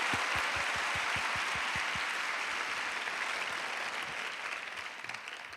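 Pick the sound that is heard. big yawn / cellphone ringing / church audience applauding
church audience applauding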